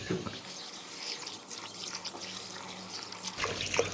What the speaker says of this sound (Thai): เราจะล้างเมล็ดแบบนี้นะครับ หลังจากนั้นเราก็จะถ่ายน้ำทิ้งนะครับ